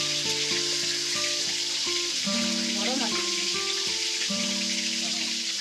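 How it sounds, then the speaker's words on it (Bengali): Fish frying in hot oil, a continuous bright sizzle running underneath loud melodic background music throughout. "মাছ ভাজা হয়ে গেছে, তুলে নিচ্ছি।"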